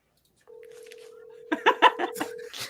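A telephone on speaker plays a steady dial tone, then a quick run of touch-tone dialing beeps, all close and clear against silence.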